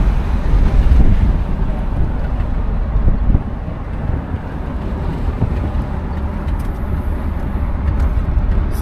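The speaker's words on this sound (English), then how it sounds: "A little bit of wind noise, because like I said, it is windy today" Heavy low rumbling wind buffets the microphone continuously outdoors beside a 1975 Pontiac Grand Ville, a dense roar with gusts rising and falling throughout.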